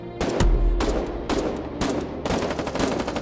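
Machine gun suppressive fire in bursts of rapid, sharp, loud shots, with several short gaps between volleys, close and dominant.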